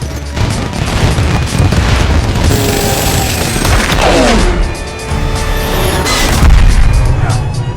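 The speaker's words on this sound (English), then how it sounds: "But soon after, the second wave of explosions followed." Heavy booms and crashing blasts rumble one after another amid a continuous loud roar as a plane's engines are destroyed in a second wave of explosions, with no voices.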